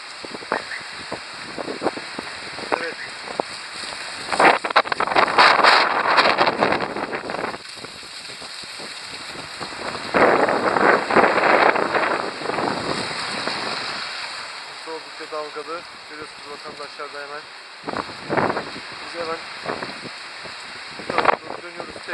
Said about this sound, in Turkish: Kavaklı sahilinde şu anda fırtına ve yağmur da etkisini arttırmaya başladı.